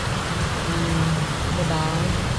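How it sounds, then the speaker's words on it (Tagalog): Heavy rain pours down in a dense, steady hiss, with faint voices murmuring underneath. "It's big rain today."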